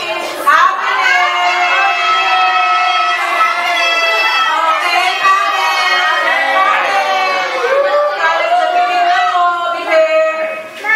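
A crowd of children and adults shouting and cheering together at an outreach event, loud and continuous throughout, with voices rising and falling in a sustained joyful roar.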